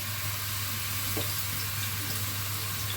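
Chopped onion for kibbeh sautéing in a pan, giving a steady, broadband sizzle that stays even throughout, close and moderately loud, with a brief soft knock partway through.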